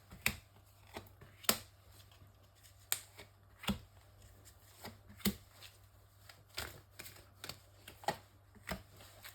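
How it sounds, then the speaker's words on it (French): Oracle cards being shuffled, a faint close series of crisp irregular riffling snaps and flicks spread across the stretch, quiet and alone. "je vais sortir aussi quelques cartes de l'oracle magique du cœur"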